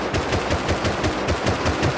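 Rapid automatic gunfire during a raid in the video game Rust, a steady rhythmic string of loud shots repeating without pause, with no talking over it.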